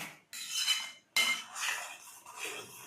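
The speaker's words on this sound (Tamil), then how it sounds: "நல்லா கலக்கிட்டே இருக்கணுங்க, ஏன்னா அடி பிடிச்சிரும்" Spoon scraping and clinking against a metal pot while wheat payasam is stirred, in short repeated strokes with brief pauses, close and clear.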